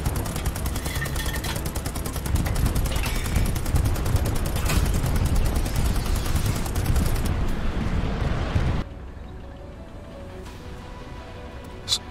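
Heavy battlefield din in the World War II shooter Hell Let Loose, with booming artillery fire, dense gunfire and rumbling explosions that run loud for about nine seconds, then drop to a quieter distant backdrop with one late thud.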